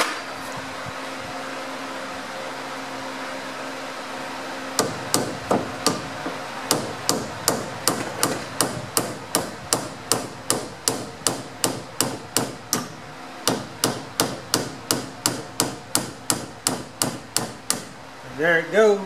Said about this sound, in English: I'm going to put a pair of pliers on it, and then I'm going to kind of drive it out with a hammer